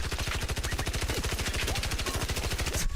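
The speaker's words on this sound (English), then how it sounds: "Okay, let me try the minigun." A minigun fires in the ARC video game as one rapid, unbroken stream of shots. The hammering rhythm is loud and close, with no pause across the whole burst.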